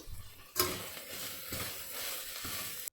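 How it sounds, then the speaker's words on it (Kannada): Fenugreek leaves fry in oil in a pan for methi pulao, a steady crackling sizzle with a sharp clatter early on and soft stirring scrapes underneath. "ಇದನ್ನು ಅಷ್ಟೇ ಚೆನ್ನಾಗಿ ಫ್ರೈ ಮಾಡ್ಕೋಬೇಕು"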